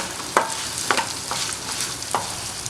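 Small onions and dried red chillies sautéing in a pan for spicy chutney, a soft continuous sizzle punctuated by a few distinct spoon scrapes as they are stirred, close with no talk.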